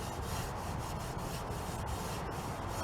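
Sandpaper rubs in quick back-and-forth strokes over a corroded spot near the bumper of a Chevrolet Tahoe, a steady close scratchy hiss with no voices.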